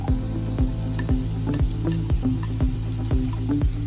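Sliced onions with ginger and green chili sauté in hot oil in a pan, giving a steady close sizzle with regular rhythmic scraping strokes of a spoon, no voices.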